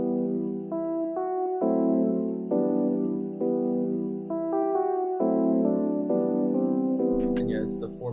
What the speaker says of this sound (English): I went and laid these chords, which sound like this